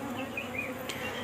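Honeybees from a queenless colony, split from another hive about two years ago, buzz in a close, continuous drone with a steady hum and no voices.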